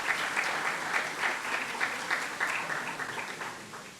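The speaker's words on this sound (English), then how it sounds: "I'll take that applause." Audience applause at a university athletic announcement event, a steady wash of clapping from a crowd with small swells, sustained throughout and fairly near.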